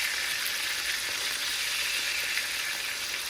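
Salmon fillet frying in a pan while being flipped, giving a steady, close, bright sizzle that holds evenly throughout with no talk.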